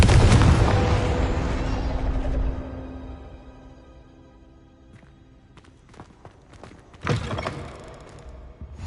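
A Confringo blasting curse from Hogwarts Legacy erupts into a loud, booming explosion that slowly decays over several seconds. A few scattered impacts follow, then a second sharp blast near the end.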